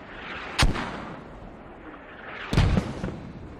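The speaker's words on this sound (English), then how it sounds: "these mortars are non-effective" Two heavy mortar impacts in the video game Squad, each a sharp booming blast with a rumbling tail, spaced about two seconds apart over a steady battlefield background with no talk.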